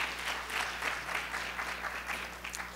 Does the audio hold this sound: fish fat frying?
no